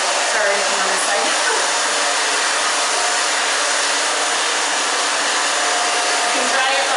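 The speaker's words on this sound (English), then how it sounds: "You can dry it the opposite way if you want for a minute." A handheld hair dryer blows steadily and loudly at close range for the whole stretch, drying hair styled into an undercut bob with a paddle brush.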